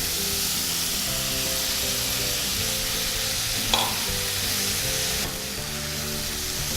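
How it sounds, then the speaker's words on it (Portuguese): Filet mignon beef browning in a hot pan before shiitake mushrooms go in, a dense continuous sizzle with a brief clatter midway and a faint tonal hum underneath; no voices. "Assim que a carne começar a dourar, você já pode vir com o seu shiitake."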